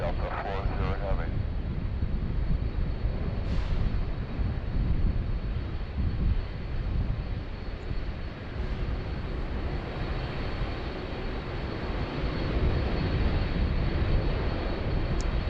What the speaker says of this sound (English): Delta 40 Heavy, Sydney Tower, good afternoon. Runway 16 right, clear for takeoff.